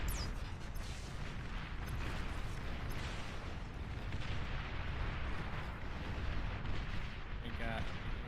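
Dense, continuous rumbling explosions from a bombing run in the real-time strategy game Beyond All Reason, a steady roar of overlapping booms across the whole stretch with a player voice talking over it.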